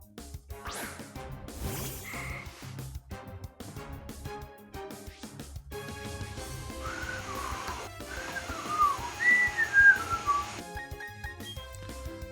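Background whistling and buzzing in Pokémon Brilliant Diamond play as busy game music with warbling whistle-like tones rising and falling, moderately loud and building toward the end, with no talking.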